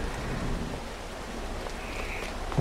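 Continuous rain in a PS5 video game, a hiss with a low rumbling wash underneath, steady and even throughout, no voices.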